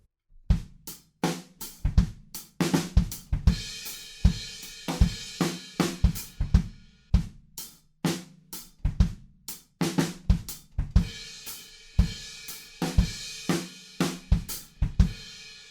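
A drum pattern from a song: repeated crash cymbal hits, quick offbeat hi-hats ticking between them, and kick and snare strokes driving a steady rhythm.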